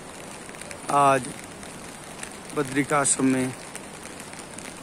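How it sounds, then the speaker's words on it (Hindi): Rain falls at Badrinath temple in the Himalayas as a soft, steady hiss running throughout, while someone speaks over it in short bursts. "बहुत सुंदर वर्षा होते हुए ये पंडित जी महाराज जी भी यहाँ पर बारिश का आनंद ले रहे हैं।"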